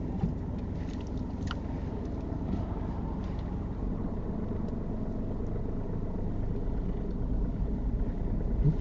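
A car reverses slowly during a driving lesson, heard from inside the cabin as a steady, quiet, low engine rumble with no voices.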